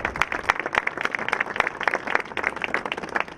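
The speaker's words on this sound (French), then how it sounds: "Je crois qu'on peut applaudir Jean" Steady applause from a gathered crowd at an outdoor commemorative oath ceremony, dense overlapping claps of moderate loudness continuing throughout without speech.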